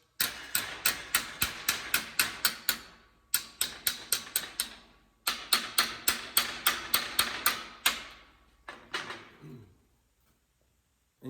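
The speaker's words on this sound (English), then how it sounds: "Go back to the straight hammer" Straight auto body hammer striking sheet metal in quick bursts of sharp, ringing taps, three runs of rapid blows separated by short pauses, loud and close, followed by a few scattered hits and quiet.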